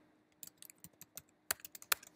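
Quick keystrokes clatter on a computer keyboard, an uneven burst of soft clicks at close range with a couple of sharper taps, no voices.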